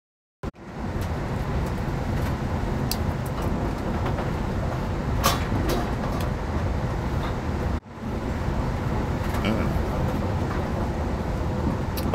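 Continuous rumble of a moving train heard from inside a carriage, a steady low roar with occasional clicks, briefly dropping out once as the call cuts off and then resuming.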